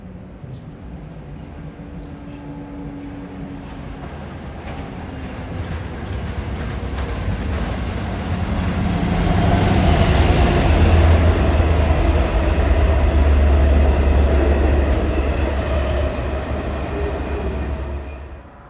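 A Long Island Rail Road diesel train runs eastbound on the main line past a platform, its engine rumble and rolling wheel noise building, peaking mid-clip and lingering steadily, with no talk.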